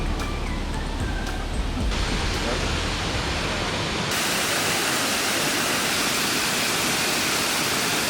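Constant roaring rush of a waterfall on Jeju Island, South Korea, dense and unbroken, with the wash of falling water growing fuller partway through.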